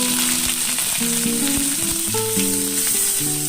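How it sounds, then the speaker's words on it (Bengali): Dried red chilli, bay leaf and black cumin sizzle in hot oil in a kadai, a continuous close, crackling hiss with light stirring, while faint musical tones sit underneath. "ভাজাটা কড়াইয়ের গরম তেলের মধ্যে আমি ফোড়নে দিয়ে দেবো শুকনো লঙ্কা আর দেবো তেজপাতা"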